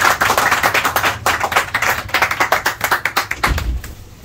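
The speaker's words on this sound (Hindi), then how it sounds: "एवर ताली बजा दो" Enthusiastic clapping from a small group welcoming a guest at a gym opening in Pune, dense and steady for about three and a half seconds before tapering off.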